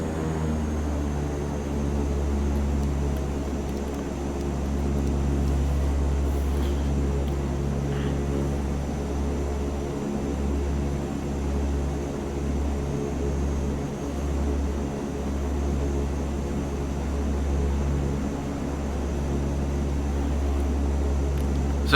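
The engines of a Canadair CL-415 water bomber in Microsoft Flight Simulator 2020 drone steadily with a deep, continuous propeller hum and a steady tonal whine over a long stretch, with no talking.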